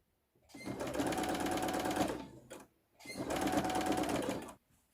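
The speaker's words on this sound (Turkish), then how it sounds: "Şöyle diktim ortasından bir dikiş." A sewing machine runs a gathering stitch through fabric in two steady bursts of close, loud whirring, each lasting under two seconds, with a short pause between them as the fabric is adjusted.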